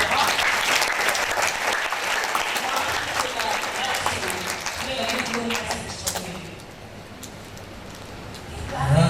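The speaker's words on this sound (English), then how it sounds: "Please a round of applause for her." An audience applauds a woman liaison officer representing Adamawa State government at a space ambassador scheme launch, steady dense clapping for about six seconds before fading into voices and room noise.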